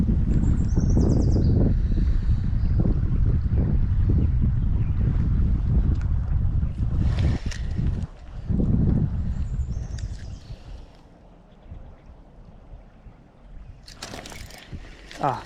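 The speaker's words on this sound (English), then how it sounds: "The wind out here is making it tough today." Strong wind buffets the microphone by a river during summer steelhead fishing, a loud rumbling gust that dominates at first and then eases off to quieter, fluttering wind noise.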